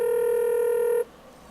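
A telephone rings with a single sustained electronic tone in a Halo Reach machinima scene, loud and close, then cuts off abruptly, leaving near silence.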